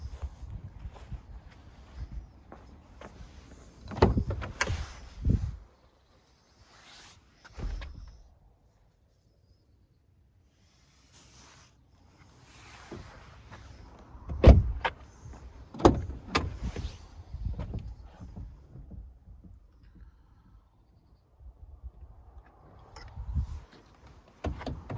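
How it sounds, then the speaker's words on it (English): Power-folding side mirrors on a seven-seat petrol automatic car whir in several short motor bursts separated by quiet gaps, close by and moderately loud, with no talk. "power folded mirrors"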